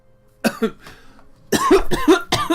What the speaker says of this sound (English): you can hear him like pausing for a second, kind of clearing his throat, drinking a bit more